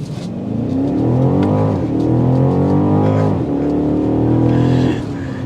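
A 2023 BMW X5 M50i with a 523-horsepower engine accelerates hard from a standstill, its loud, close engine note rising steadily through the gears with brief dips at each shift.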